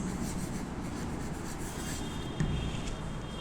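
A teacher writing on a classroom board, faint scratchy rubbing strokes over a steady room hum, with one slightly louder tap partway through.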